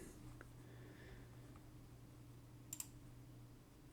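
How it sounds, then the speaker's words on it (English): A computer mouse clicks in a quick double-click on a software file icon, a pair of sharp, close, faint clicks over a steady low electrical hum in a quiet room. "Double click on it."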